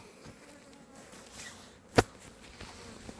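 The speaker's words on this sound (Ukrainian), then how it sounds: "Пчела літає." A honeybee flies near the hives with a faint, steady buzzing, broken once by a single sharp tap midway, and no voices.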